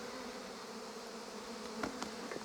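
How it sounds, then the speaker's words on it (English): Bees swarm around a beehive on Fournoi, Greece, a steady insect drone filling the air with a few sharper buzzes passing close by near the end. "these are the bees that are all over us right now"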